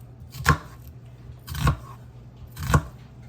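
Three evenly spaced knife chops through an onion on a cutting board, each a crisp, close thunk about a second apart, with quiet pauses between.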